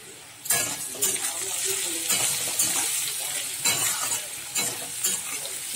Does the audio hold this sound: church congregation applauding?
no